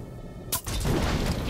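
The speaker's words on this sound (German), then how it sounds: "Oh, ich hab ihn explodieren lassen." A sudden sharp blast in the video game Middle-earth: Shadow of War breaks in, followed by a lingering rumble and debris-like noise that fills the rest of the moment.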